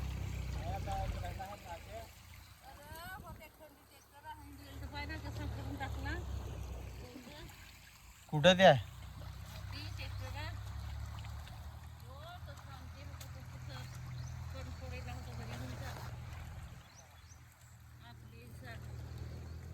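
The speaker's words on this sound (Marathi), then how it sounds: "इकडं मस्त आमचा ओढा." A small stream beside farm fields flows with a steady low wash, heard beneath a family's casual conversation, with one brief louder knock.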